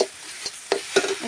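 Poppy seed paste being stirred and fried in a pan: three short scraping strokes of a spoon against the pan over a faint sizzle.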